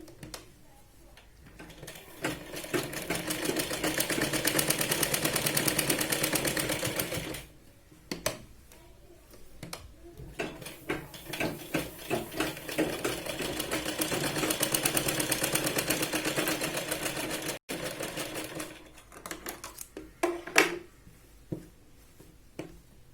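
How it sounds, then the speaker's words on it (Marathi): Sewing machine stitching the shoulder seam of a Punjabi dress, a steady close whirring run that stops, then restarts in shorter bursts and a second long run. "शोल्डरला 1 ते 3 वेळा व्यवस्थित शिलाई लावून घ्यायची."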